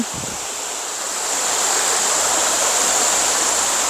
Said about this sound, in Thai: น้ำตกคำหอมนะคะ